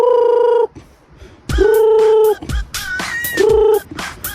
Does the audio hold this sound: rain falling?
no